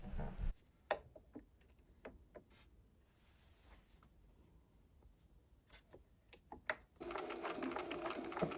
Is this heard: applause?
no